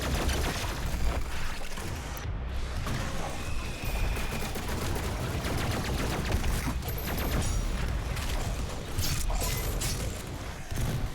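Gunfire in DOOM Eternal, a dense, noisy barrage of shots and mechanical clatter running continuously at moderate level with no clear breaks.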